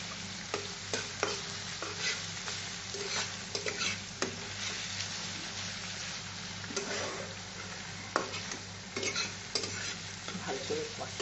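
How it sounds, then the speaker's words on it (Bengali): Onion paste with turmeric and Kashmiri chili powder frying in a pan while cooking ilish pulao, a continuous close sizzle with intermittent stirring scrapes and clatters, no voices. "পেঁয়াজ বাটাটা দিয়ে একটু কষে নিচ্ছি।"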